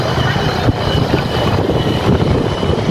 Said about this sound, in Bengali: এখন যে বিমানটা দেখতে পারলেন সেটা অনেকটাই বড় বিমান, সম্ভবত সেটা কার্গো বিমান